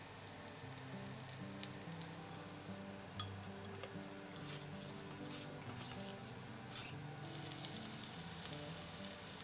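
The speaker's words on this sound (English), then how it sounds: "Now into the pot goes mustard oil, big generous chunks of cauliflower and potato, gently sauteed until they get a lovely light color on the outside" Chunks of cauliflower and potato sautéing in mustard oil in a pot, a steady close sizzle and crackle with faint clinks throughout.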